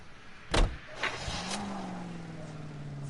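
Car in the video game L.A. Noire: a door thump and clicks, then a steady low engine hum rising and settling as the car pulls away, with a voice speaking briefly.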